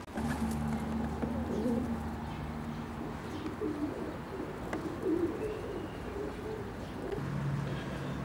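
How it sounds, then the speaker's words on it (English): Racing pigeons coo in a loft, several soft repeated throaty calls near and far over a faint background hum, with occasional chirps and a distant car. "It's a nice pigeon, Hobie."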